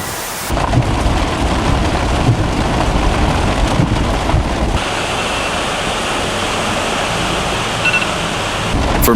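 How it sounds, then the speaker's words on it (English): Steady heavy rain pours along the California coast in winter, a dense, loud wash of noise with deep rumbling underneath, continuous throughout with no voices. "it sounded like nothing more than another winter shower tapping against rooftops and windows"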